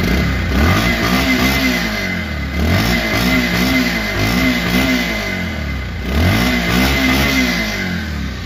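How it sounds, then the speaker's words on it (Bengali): A Bajaj Pulsar 150cc motorcycle with double disc brakes and 3,762 km on the clock revs loudly and close by, its engine note rising and falling in repeated throttle blips over about eight seconds with no talk. "বাইকটি এখন দেখাবো সাউন্ড এবং পারফরমেন্স।"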